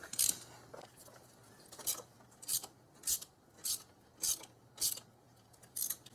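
Ratchet clicking as bolts come off the lower intake manifold of a 2001 Infiniti QX4 with 150,000 miles, in about eight short, evenly spaced bursts of bright rasping close to the mic, with no talk.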